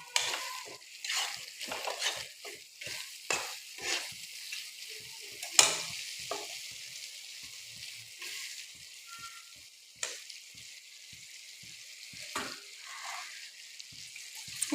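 Chicken curry with salt and potato being stirred in a hot pan, with steady sizzling and frying broken by repeated scraping stir strokes, close and moderately loud, with no talking.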